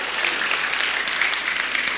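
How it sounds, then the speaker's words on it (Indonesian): Audience applause at a talk, a brief steady wash of clapping, fairly loud and even, with no voices standing out. "Tepuk tangan boleh, nggak apa-apa."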